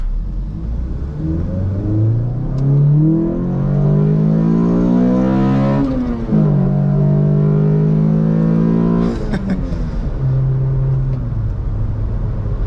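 The XRS car accelerates hard during a full pull, its engine rising in a loud, close, sustained revving climb through the gears, with brief drops at each shift. No one speaks.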